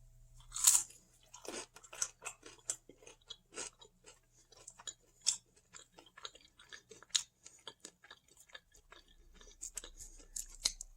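Close, crisp chewing and crunching of veggie dumplings at dinner, with irregular bites and mouth sounds spread across a quiet background.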